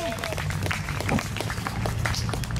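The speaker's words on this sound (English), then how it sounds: "How about a big round of applause?" Outdoor crowd applause at a Hawaiian sovereignty restoration day gathering in Thomas Square, steady clapping over a constant low hum, with voices mixed in throughout.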